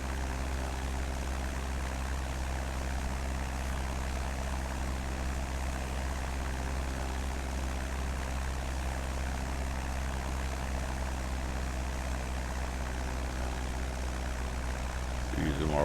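A light propeller aircraft's engine in flight drones steadily from inside the cabin, an even humming buzz with a constant low pitch that holds for the whole stretch.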